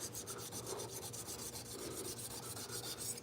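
Hand sanding with 320 grit sandpaper on a car body panel, a steady rhythmic back-and-forth rasping close up, about a dozen even strokes with no talking.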